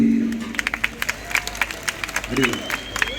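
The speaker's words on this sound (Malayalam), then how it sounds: "ഒരു കൈയടി തരൂ" An audience at a ganamela music concert at St Antony's Knanaya church, Marika, gives a scattered, sparse round of clapping with individual claps standing out, mixed with crowd murmur and voices.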